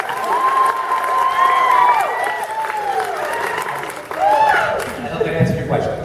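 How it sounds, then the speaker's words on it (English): A large convention crowd at a Whedonverse fan panel at DragonCon in Atlanta applauds and cheers, with excited shouts and loud voices rising over the clapping, a brief lull, then another swell of cheering. "Just applaud that."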